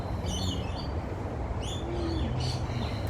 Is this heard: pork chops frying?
no